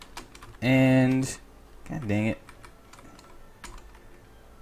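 Rapid keyboard typing on a computer while setting up character classes for a homemade game, soft clicks scattered through the clip around two loud bursts of talking.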